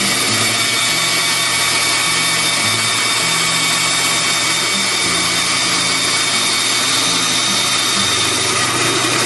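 A rotary power tool whines steadily as it cuts the tail of a wooden black-capped chickadee carving, a continuous buzzing drone with slight pitch shifts as the bit bears into the wood, no talking.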